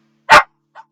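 A dog gives one loud, sharp bark followed by a fainter, shorter yip a moment later, heard close and alone in an otherwise quiet room.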